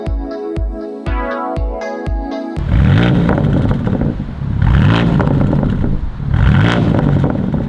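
A brand-new 2025 BMW M2 with an Akrapovic cat-back exhaust blips sharply several times, then breaks into loud, drawn-out revs rising and falling three times at close range, with no talk.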